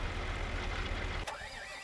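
A tractor engine in Farming Simulator 2013 chugs and churns loudly at close range, then cuts sharply to a quieter idle with a faint whine.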